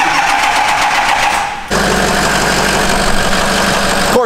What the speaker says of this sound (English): the second camera goes off, the truck fires up